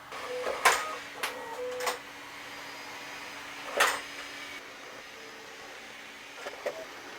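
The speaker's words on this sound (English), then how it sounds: "So we'll just let it print and then we'll compare the results of the solo tests" Creality K1 Speedy and Bambu Lab P1P 3D printers running side by side: a faint, steady mechanical hum with soft motor whines and a few brief clicks and bumps, heard quietly at a distance with no talking.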